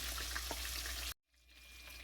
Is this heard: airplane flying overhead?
no